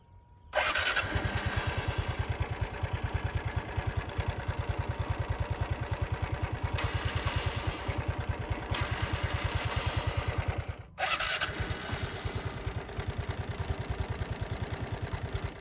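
A Vespa scooter engine, a model that starts on its own without pressing the self-start button, fires up nearby and settles into a steady, rapid idle putter, briefly cutting out and restarting near the end.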